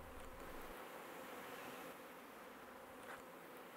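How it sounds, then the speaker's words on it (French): Honeybees buzz steadily at one of several hundred hives during the honey harvest, a continuous close insect hum with no voices. "il vient enfin récolter le miel de ses abeilles dans l'une de ses 300 ruches"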